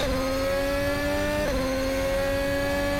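A race car engine screams at full throttle coming out of a hairpin, a loud sustained high-pitched howl with steady harmonics and a brief dip midway.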